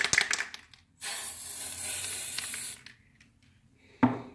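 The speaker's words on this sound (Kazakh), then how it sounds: "Snow спрейді қосайық." A can of snow spray lets out one steady hiss of about two seconds onto homemade slime on a tabletop. Faint handling noises and a sharp tap come before and after the spray.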